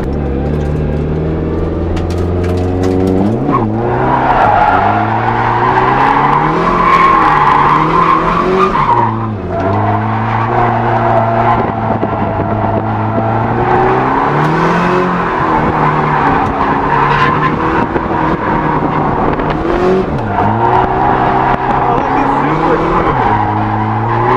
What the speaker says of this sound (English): What I did there was I let go of the gas completely, and that's how it ended up spinning out.